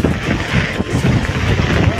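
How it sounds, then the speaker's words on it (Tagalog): Strong wind roaring and buffeting the microphone in a continuous loud rush, with faint voices underneath. "Lakas ng hangin"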